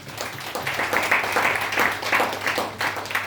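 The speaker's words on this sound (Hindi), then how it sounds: "मैडम के लिए एक बार जोरदार तालियां" A room full of people claps for a woman during a product presentation. The clapping is steady and moderately loud over a low electrical hum and lasts a few seconds.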